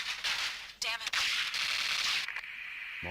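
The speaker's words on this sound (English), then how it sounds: "That all the gunshots are musical." Musical, tonal gunshots from a Unity-made video game, firing as bright bursts in a quick irregular string, loud and close with no other sound underneath.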